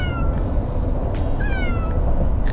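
Two pet cats meow inside an RV on a trip, with several drawn-out meows, some overlapping, rising over a steady loud rumble of road noise.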